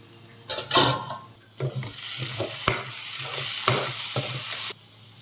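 Ingredients for an egg tomato curry are stirred and fried in a pan: a constant close sizzle broken by several scraping stirs and spoon knocks against the pan, ending suddenly, with no one talking.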